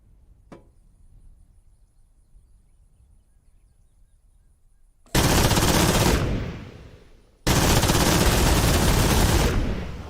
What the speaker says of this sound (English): the cannon are working okay